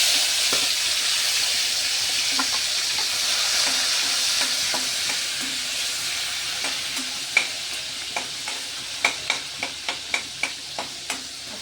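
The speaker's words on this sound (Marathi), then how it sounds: "जिरा टाकणं झालं तर आपल्याला मध्ये टमाटा घालायचा." Cumin and tomato fry in a pan, giving a steady close sizzle and hiss, with sharp scraping clicks of stirring that grow more frequent and rhythmic toward the end.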